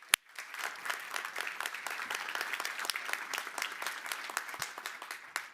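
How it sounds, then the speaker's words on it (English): Conference audience applause, a dense wash of many hands clapping at moderate distance, steady and fairly quiet throughout with no speech over it. "Let's give her a big hand of applause."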